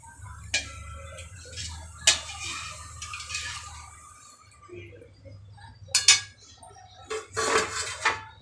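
Metal lid clanks onto a cooking pot of simmering pomfret fish curry, a few sharp clinks and taps spread across the clip over a low kitchen hum, close and moderately loud.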